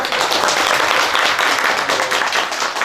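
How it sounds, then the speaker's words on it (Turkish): Applause follows a tribute during an event at a new central mosque in Yeniçağa, a dense, steady wash of many hands clapping at close range, holding loud and even throughout with no voices on top. "Onu da ayakta alkışlıyorum kendisine."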